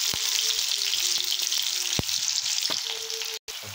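Onions and curry leaves fry in hot oil with a loud, dense, continuous sizzle close up, punctuated by a few sharp spoon taps against the pan.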